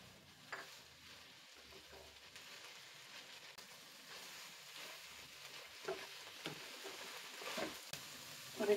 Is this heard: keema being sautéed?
yes